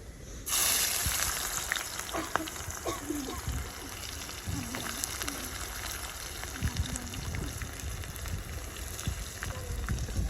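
Sliced onions hit a little hot oil with sugar for a mutton and potato curry, setting off a sudden, steady sizzle that keeps crackling and hissing without any talk.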